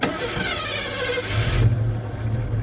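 A 1986 Ford Mustang cranks briefly and then catches, settling into a loud, close rumbling idle with no one talking.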